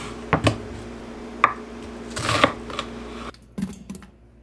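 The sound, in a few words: knife chopping an onion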